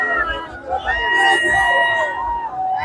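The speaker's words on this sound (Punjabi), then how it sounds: "ਨੌਜਵਾਨਾਂ ਵੱਲੋਂ 2025 ਦੀ ਆਮਦ ਵਿੱਚ ਭੰਗੜੇ ਪਾ ਕੇ ਸੈਲੀਬ੍ਰੇਸ਼ਨ ਕਰਕੇ ਉੱਥੇ ਇੰਜੋਏ ਕੀਤਾ ਜਾ ਰਿਹਾ ਹੂਟਿੰਗ ਕੀਤੀ ਜਾ ਰਹੀ ਹੈ" Young people in Jalandhar celebrate the arrival of 2025 with bhangra, a close, loud crowd hooting and shouting over a busy babble of voices.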